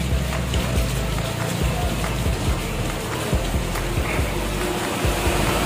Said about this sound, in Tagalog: Yan, nabot tayo ng ulan.